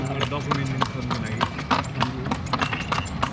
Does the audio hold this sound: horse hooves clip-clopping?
yes